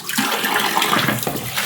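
A clay cooking pot being washed by hand with water, the second of two: steady close splashing and running water for the whole short stretch, with no talking.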